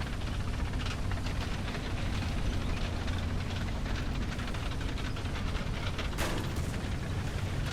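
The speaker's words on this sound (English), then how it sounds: "Shots fired. Machine gun fired." Steady, dense machine gun fire from a tank in the War Thunder video game, a continuous rattling barrage with rumbling engine and battle noise underneath and a sharper burst near the end, no voices.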